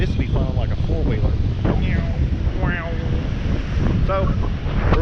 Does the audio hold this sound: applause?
no